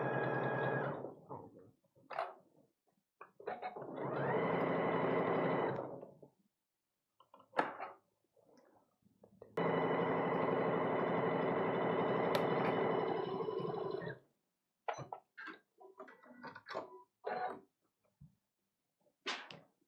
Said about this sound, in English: And we're going to sew down that end.